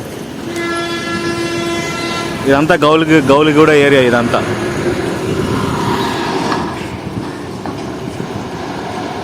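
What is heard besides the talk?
metro train passing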